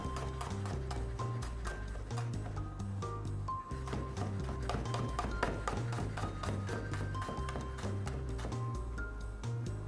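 Radish being sliced very thinly into half rings with a knife, a rapid, even series of crisp taps against a cutting board, close and steady throughout.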